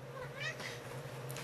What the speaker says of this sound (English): My cat missed me.